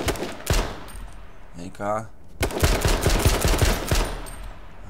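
Gunfire in the H1Z1 King of the Kill battle royale game, with sharp repeated pistol shots in a rapid burst near the end, and players talking in between.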